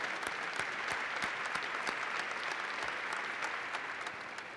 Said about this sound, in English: You're getting applause if you can't hear it.